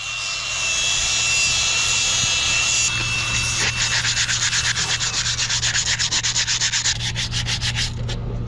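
Metal grinding on worn sprockets of a homemade lumber stacker, a steady abrasive rasp that turns into rapid rhythmic scraping strokes partway through, close and loud with no talk.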